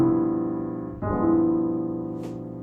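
A piano chord rolled across both hands, notes entering in a quick spread and ringing on, then a second rolled attack about a second later sustaining and slowly fading.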